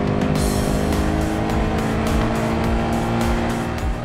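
A Porsche 356 race car driven hard at Monterey, engine roaring loud and close with rising and falling revs and tyre noise throughout, no talk.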